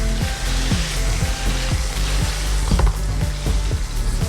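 A longganisa burger patty sizzles in an oiled pan right after being flipped, a constant close, loud frying crackle with faint scraping knocks beneath it.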